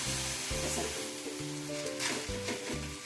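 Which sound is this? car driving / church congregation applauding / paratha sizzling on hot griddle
paratha sizzling on hot griddle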